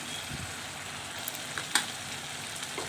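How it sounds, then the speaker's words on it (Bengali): Spice paste with turmeric, salt and tomato paste frying in a pan for egg curry, a soft steady sizzle with a few faint clicks and pops throughout. "এবার ভালো করে মশলাটাকে কষিয়ে নেব"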